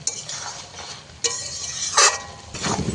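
Potatoes and green banana with fish masala being sautéed in a pan, spatula scrapes and stirring clatter in short bursts over a soft sizzle, close and alone.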